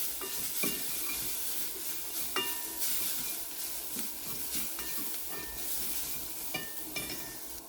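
Rasam spice mixture of turmeric and asafoetida is stirred in a frying pan, giving a continuous sizzling hiss with occasional scraping knocks of the spoon against metal.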